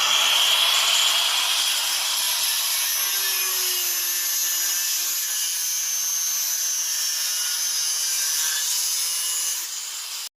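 Grinding stone shaping a metal wheel axle for a scooter built from a 49 cc grass-trimmer engine, a continuous harsh rasping grind held steady for about ten seconds, close and alone without speech.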